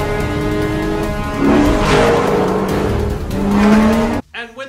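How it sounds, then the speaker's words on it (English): Tires squealing through a high-speed car chase in the Bond film Spectre, with engines roaring and a long rising screech, loud and continuous before cutting off abruptly near the end. "Look at this car chase and tell me it doesn't look more like a car commercial."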